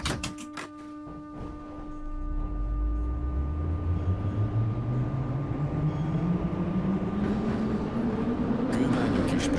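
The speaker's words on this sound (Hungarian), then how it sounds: "Please stand clear of the closing doors." A Budapest M3 metro train, an MMZ 81-717.2 in the Garry's Mod Metrostroi game, has its doors shut with a few sharp thuds and then pulls away, its motor whine climbing steadily in pitch and growing loud.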